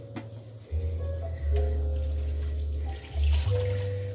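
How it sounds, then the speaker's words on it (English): Tap water runs steadily into a sink as hands are washed in a cabin kitchen, the stream shifting in pitch and loudness as the hands move through it, with no talking. "Wash my hands."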